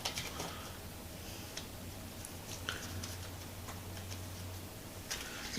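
Tarot cards being shuffled give soft, irregular ticking clicks and a light patter, fairly quiet over a steady low hum, with no talking.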